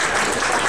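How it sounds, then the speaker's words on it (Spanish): Audience applause for a doctor's presentation at an Indigenous Mesoamerican pre-congress, a short burst of dense, steady clapping from a crowd in a hall. "pido un aplauso por la presentación"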